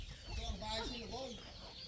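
A chicken clucks briefly amid a busy outdoor scene, its call rising over a low background rumble.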